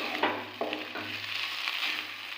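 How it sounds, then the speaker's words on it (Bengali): Spiced potato filling being stirred in a kadai, with a gentle sizzle of frying under a few scraping spatula strokes. The sound is fairly quiet and steady, and nobody speaks. "এবার ভালোভাবে আলুটার সঙ্গে মিশিয়ে নেব।"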